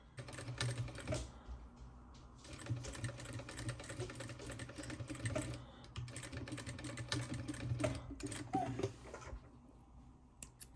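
Domestic sewing machine running a straight seam on the wrong side of a child's knit top while the neckline is widened, a fast steady mechanical clatter in several bursts with brief pauses, close and fairly quiet.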